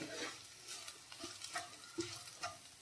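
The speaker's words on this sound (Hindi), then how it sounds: "इसको डाल के अच्छे से मिक्स कर लेंगे हम लोग" Spiced mixture with kasuri methi being stirred and fried in a pan for a home-style Indian snack: a steady sizzle with repeated scraping strokes of the spoon, close and fairly quiet, no talk.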